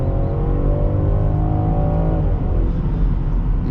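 A 2023 Land Rover Defender 130's engine revs hard at full throttle, a loud, steady roar that climbs in pitch and holds strong throughout, with no talk over it.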